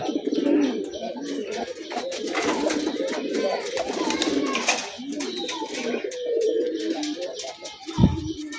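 Pigeons coo and call together after being let out in the morning, a dense overlapping chorus of low coos close by, with a brief thump near the end.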